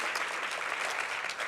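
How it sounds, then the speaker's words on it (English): Audience applause at a charity gala for breast cancer research, a dense, steady round of clapping from a crowd lasting the whole moment, even and sustained without a break. "round of applause"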